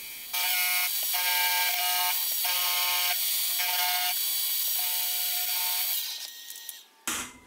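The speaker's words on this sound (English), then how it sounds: "the first thing I'll do is do the bulk of the stock removal in the milling machine" A milling machine cuts steel stock for a small hand plane blade with a loud, high, steady whine broken by short regular pulses. It fades out near the end and is followed by a brief louder burst.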